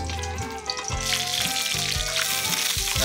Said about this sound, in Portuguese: a gente vai colocar na frigideira com um pouquinho de óleo para dar uma queimada nele